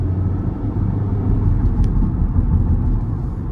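A Honda City RS petrol car accelerates to overtake, heard from inside as a steady low engine rumble and road drone.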